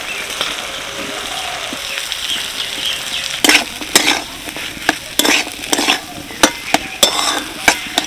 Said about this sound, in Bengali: কড়াইশুঁটিগুলো হালকা করে ভেজে নেব